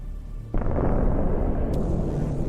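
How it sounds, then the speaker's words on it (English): An armored vehicle hit by a drone strike: a sudden heavy blast about half a second in, followed by a long, loud, rumbling roar with a sharp crack near the end. "Look at this hit and the explosion from another drone that was adjusting the artillery fire."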